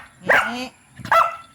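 A dog barks twice, sharp and close, with a short pause between the loud yaps and quiet around them.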